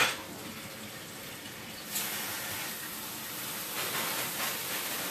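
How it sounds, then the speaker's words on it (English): Tap water runs steadily into a kitchen sink while vegetables for minestrone soup are rinsed, a continuous hissing flow that grows slightly louder partway through. "I gotta rinse them."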